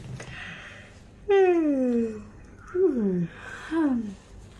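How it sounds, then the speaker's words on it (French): Three big voiced yawns in a row, each sliding downward in pitch, the first longest, with brief quiet gaps between them. "On va faire ça d'ailleurs, on va faire des grands bâillements."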